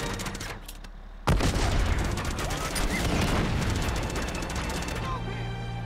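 Dense gunfire fills a battle in the action video game Uncharted 2, a sustained loud barrage of overlapping shots and blasts that starts abruptly after a brief lull and continues without pause, with a voice speaking over it.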